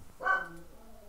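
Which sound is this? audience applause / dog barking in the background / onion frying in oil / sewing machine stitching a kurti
dog barking in the background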